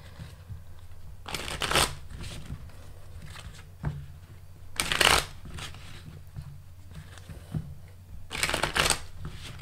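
A tarot card deck shuffled by hand in several separate bursts of crisp riffling and snapping cards, close and fairly quiet, with brief pauses between the bursts.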